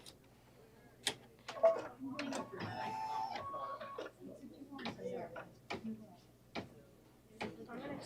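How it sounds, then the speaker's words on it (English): A home embroidery machine stitches out a lace strand for a Kimberbell Enchanted Winter Mittens block, with Marlin thread on top. Irregular sharp ticks and clicks alternate with short whirring runs, and faint voices sit low underneath. "And this is going to take 6 minutes to sew out."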